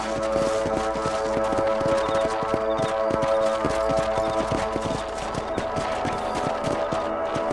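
Horse hooves clip-clop in a steady, rhythmic trot over a continuous low musical drone in the video game Red Dead Redemption, with no talking.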